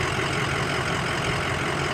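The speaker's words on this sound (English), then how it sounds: "Motor sounds good. It's been running for over an hour. It idles smooth" 2006 Ford E-450 Super Duty Blue Bird Handi bus engine idling smoothly after running a long while, a steady low, even drone with no talk.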